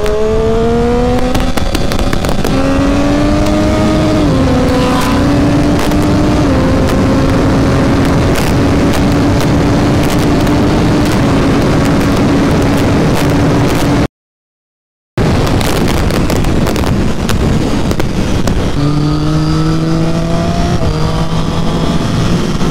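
A Triumph Street Triple 675 motorcycle is ridden on hill roads, its engine droning loud and close with rising and falling revs and gear changes. A brief dropout breaks the sound partway through, and no one speaks.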